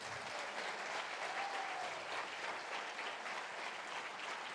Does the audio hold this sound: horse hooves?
no